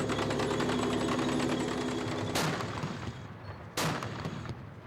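Gunfire in Iraq during the 2003 invasion, heard as a dense, continuous rattle under steady machinery or engine noise, broken by two sharper, louder bangs further on.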